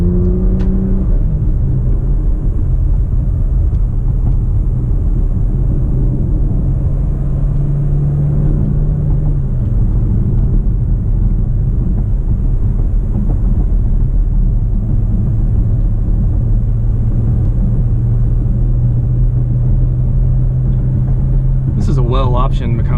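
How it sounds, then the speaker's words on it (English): A 2018 Porsche Macan GTS carries a steady loud engine drone and road rumble from inside the cabin, with the pitch shifting as the gears change, and someone talking over it throughout. "Gives you those really crisp downshifts."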